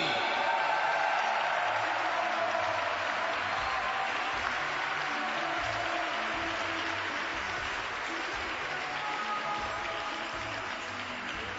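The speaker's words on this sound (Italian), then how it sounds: "pubblico un applauso a Niccolò Nocciolini" An audience at a boxing event applauds a boxer, sustained crowd clapping that continues steadily and fades slightly toward the end.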